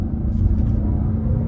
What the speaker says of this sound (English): That's just because you've got the engine revving a little bit more than what it would normally